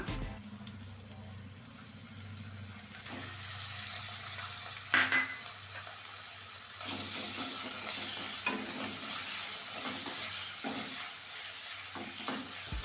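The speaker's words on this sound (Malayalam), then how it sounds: "ഒന്ന് വാടി വന്നതിന് ശേഷം നമുക്കിതിലേക്ക് ചിക്കൻ ചേർത്ത് കൊടുക്കാം" Small chicken pieces sizzle and fry in a pan with softened onions, a steady close crackle broken by a few scraping stirs of a spoon.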